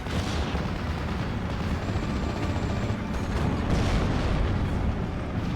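Sustained artillery counter-battery fire in Steel Division Normandy 44, with 75mm guns firing on anti-tank positions; a dense, continuous rumble of booms and explosions, loud and unbroken throughout, with no talk.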